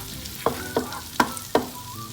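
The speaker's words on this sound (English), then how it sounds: "now I'm going to add chopped garlic and again saute around 1 minute" Chopped garlic sautéing in a pan for spaghetti and meatballs, with four distinct spoon-and-pan stirring scrapes spaced about a third of a second apart over a low sizzle.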